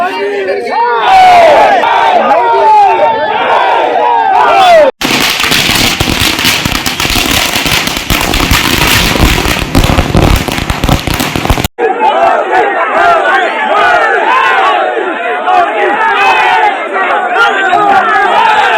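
Supporters celebrating an election win in Kolar, loud crowd cheering and shouting, broken by a long burst of dense crackling firecrackers, then more cheering voices.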